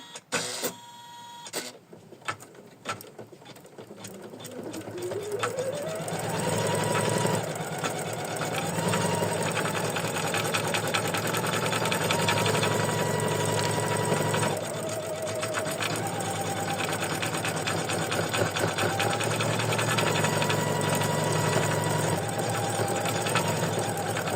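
An embroidery machine stitches a lacy lavender ornament, its steady rapid needle chatter running continuously and fairly loud after a brief start-up, with a high motor whine rising and holding throughout.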